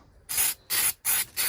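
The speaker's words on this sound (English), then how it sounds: "I'm gonna end up having to spray this side right here just a little bit" Black spray paint hisses from an aerosol can in three short, loud bursts separated by brief pauses, close to the microphone, with no one talking.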